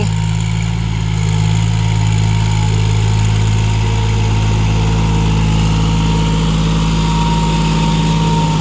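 A 5040D tractor plowing a muddy, flooded rice field, its engine a loud, steady, close droning rumble that runs unbroken throughout without any voices.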